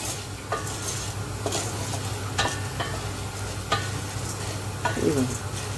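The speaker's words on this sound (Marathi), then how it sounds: "सगळ्या डाळी आपल्याला ज्या डाळी घेतल्यात ना ते सगळं भाजून घ्यायचं आहे" Dry lentils roasting and being stirred in a pan, a steady sizzling hiss with periodic scraping strokes of a spoon against the metal, close and even, no speech.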